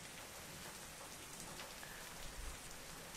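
Steady rain patters in the Kuukiyomi video game, a faint, continuous hiss of drops falling on a surface with a slight low rumble near the end.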